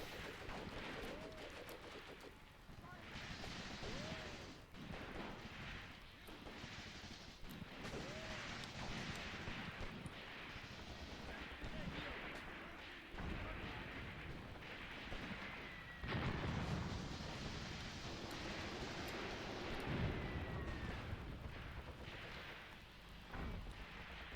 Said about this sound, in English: now the Matilda commander is throwing out hand grenades